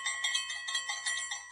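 A soft, bright bell tone rings in a few quick repeated chimes, faint and clean with nothing else in the background.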